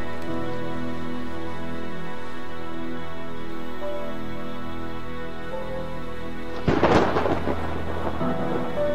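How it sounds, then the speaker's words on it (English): Steady rain falls through a thunderstorm, and then a sharp, close crack of thunder bursts out before the rain hiss carries on alone. "Storm's coming."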